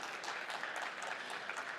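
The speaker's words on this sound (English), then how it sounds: "A round of applause for Mo Gawdat" A live stage audience gives brief, steady applause, a dense wash of clapping that is moderately distant and holds level for the whole short stretch.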